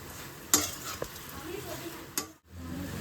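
Spicy fry being stirred and mixed in a hot pan, a steady sizzle with a few sharp spoon-on-pan clinks and scrapes, close and moderately loud, with a brief dropout near the end.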